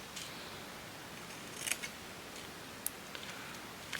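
Scissors trim a paper flower pocket tag in a quiet room: a few faint, crisp snips and small clicks over a soft steady hiss, sparse and close.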